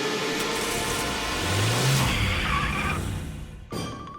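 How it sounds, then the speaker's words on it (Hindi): A cartoon car drives off: a loud engine roar rises and revs, and a squealing pitch sweeps up and fades. A sharp cut near the end leads into a different tone. "मैं गाड़ी निकालता हूँ।"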